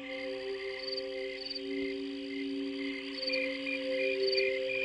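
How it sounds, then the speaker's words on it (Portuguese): Steady, high-pitched insect trills of crickets, several overlapping and continuous, with brief pulsing accents above a constant drone. "Os sons dos grilos são um pouco mais musicais do que os sons dos gafanhotos."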